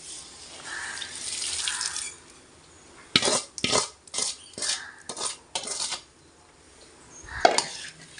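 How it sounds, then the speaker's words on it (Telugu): A spoon stirs mustard seeds and other tempering spices in a pan for tamarind rice, making a quick burst of clinking, scraping strokes after a soft sizzling start, then a final sharp knock against the pan. "ఇప్పుడు కలుపుకుంటే బాగుంటుంది ఫ్రెండ్స్, కరకరలు ఆడుతూ ఉంటాయి"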